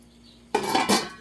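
Water poured into a pan heating on a stove for oil-free vegan cooking, a sudden loud hiss and sizzle that bursts in after a quiet hum and stays strong to the end.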